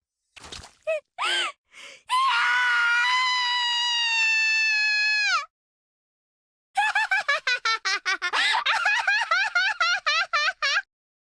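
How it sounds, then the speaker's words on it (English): Shrill, drawn-out screaming and wailing in the Higurashi When They Cry visual novel, a long sustained cry followed by a rapid series of broken, sobbing shrieks, loud and close after a few short gasps. "Shion wails rasping like silk tearing apart, along with my screams of ecstasy"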